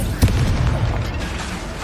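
In Hogwarts Legacy on PS5, an Incendio fire spell goes off with a short, loud whoosh and burst, a brief dense roar under noisy game sound.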